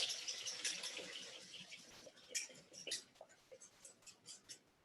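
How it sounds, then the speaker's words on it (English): Egg and yolk being beaten vigorously with a stiff whisk, producing quiet rapid wet swishes and light clicks that start dense and then become more spaced, with no voices. "take your whisk and you're going to whisk it, and you're going to whisk it vigorously for 30 seconds"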